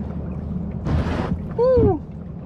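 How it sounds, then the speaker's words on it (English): A canoe on a shallow river near a waterfall scrapes over the sandy bottom, a short rough rasping burst followed by a louder grinding drag with a whining tonal squeal, over steady water and background noise. "Dude, I'm riding on the sand."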